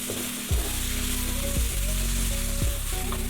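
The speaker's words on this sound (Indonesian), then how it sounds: "Kemudian kita masukkan dan tumis kembali hingga bumbu benar-benar matang dan tercium harumnya." Spice paste with lime leaves sizzles steadily in hot oil in a pan for jengkol, while a utensil scrapes and stirs in repeated strokes about once a second, close and clear.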